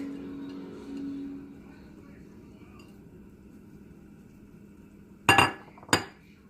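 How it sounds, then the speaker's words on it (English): A spoon stirs broccoli cheddar bacon soup made with white cheddar in a pot: a quiet stretch of low hum, then two sharp metallic clinks close together near the end. "We're going to give this a stir until everything melts down."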